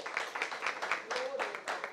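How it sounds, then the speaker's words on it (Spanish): Audience applause at a book launch for a rosary book, a steady patter of many hands clapping at moderate level with a faint voice briefly rising through it. "Yo creo que esto se merece un aplauso."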